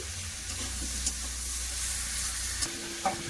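Fish with coriander powder and salt sizzles in a hot pan, a steady, close frying hiss with a few soft scrapes as the spices are stirred in.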